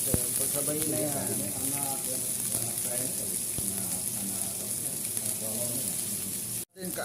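Garlic, chili and onion sizzle in a pan for ginataang gulay, a steady close frying hiss with light stirring throughout and a brief drop near the end.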